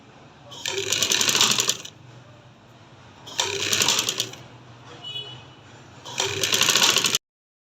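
A sewing machine stitches a baby girl's garment in three fast, whirring bursts, each a couple of seconds long and separated by short quiet pauses, close and fairly loud.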